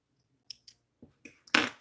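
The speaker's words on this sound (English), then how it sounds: "I've got a couple of loose threads here I'm going to trim." Scissors trim loose threads on a doll dress, a few small, sharp snips close by at irregular intervals, the last one a slightly louder rustle.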